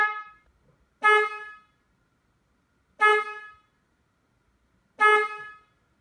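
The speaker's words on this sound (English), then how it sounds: "just test the horn, verify everything's good." Three separate car horn honks, each about half a second long, spaced evenly two seconds apart with silence in between. Loud and close.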